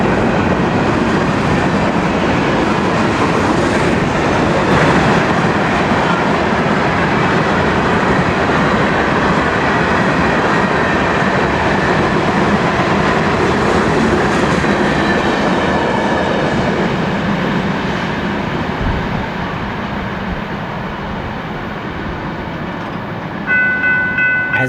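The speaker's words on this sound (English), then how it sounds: "As the tail end of train 204 passes by" An FEC freight train hauled by EMD road locomotives, including SD40-2s, rolls steadily past at close range, a loud continuous rumble and rail clatter of passing cars that eases slightly as the tail end goes by.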